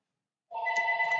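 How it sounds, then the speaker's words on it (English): A telephone starts ringing abruptly after half a second of silence, a bright electronic warble with a steady pitch that stays loud and close until the end. "And the phone is ringing."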